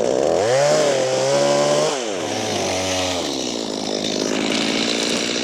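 A loud chainsaw revs up and down close by, its engine pitch rising and falling as it bites into wood.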